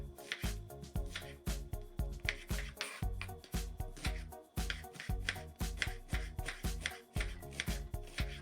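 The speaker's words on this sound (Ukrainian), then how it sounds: "Три середні цибулини почистила і нарізаю четвертинками" Rapid knife chopping on a board, steady rhythmic strikes close up with brief pauses, an onion being cut into quarters.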